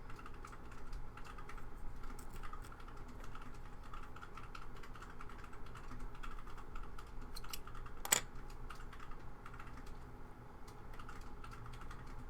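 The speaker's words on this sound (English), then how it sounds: "the clacking in the background is going to be the husband's keyboard" A computer keyboard clacks faintly in the background with steady, uneven keystrokes, plus one sharper click partway through, while a needle-felting session goes on.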